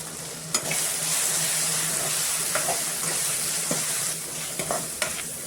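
Cumin, coriander and chili powder fry in a pan for a chana dal with spinach, giving a steady close sizzle broken by a few sharp stirring clicks.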